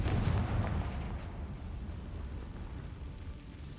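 A Confringo spell blast in Hogwarts Legacy, a sustained loud, rumbling burst of fiery impact that gradually thins out, with no talk over it.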